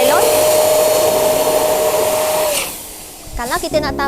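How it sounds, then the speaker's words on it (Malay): A transparent balloon is pumped up, giving a loud, steady whooshing blow of air that stops after about three seconds, followed by brief rubbery squeaks. "last step, kita boleh tiup balon kita"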